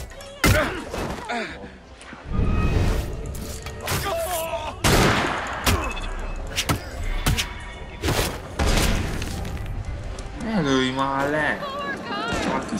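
Gunfire in Assassin's Creed Unity: a run of sharp broadband shots and thuds spread across the scene, mixed with game noise, and people talk throughout.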